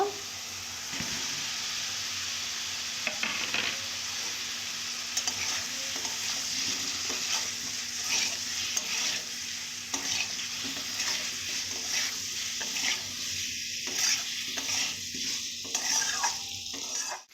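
Fried potatoes tossed into a crab curry in a pan, steady frying sizzle under repeated scraping stirs and occasional clinks of a utensil on the pan, close and continuous with no talk.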